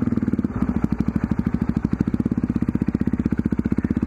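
A motorcycle engine on a test ride pulses in rapid, regular thumps, loud and close, the beat quickening slightly as the throttle opens after a brief quieter start.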